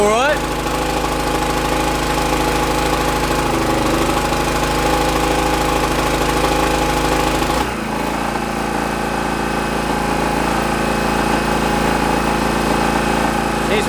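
An old generator engine runs steadily close by, a loud, even chugging drone with a rattling knock that stays constant and dips briefly for a moment midway through.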